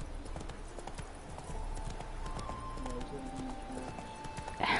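Horse galloping in a video game: steady, rapid hoofbeats under faint ambient sound, with a brief louder noise at the very end.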